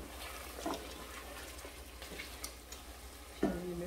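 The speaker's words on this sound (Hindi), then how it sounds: "हल्दी को अच्छी तरह मिक्स कर देते हैं।" Turmeric is stirred into a chicken and chickpea curry in a pan, a faint soft sizzle with occasional spoon scrapes and clinks against the pot, quiet and close.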